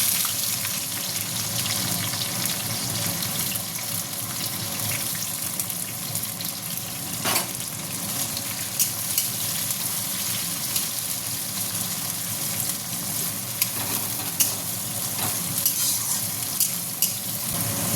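Chopped onion sizzles in a pan of oil for a mutton curry, a constant close frying hiss with occasional scrapes and stirring clicks, with no talking.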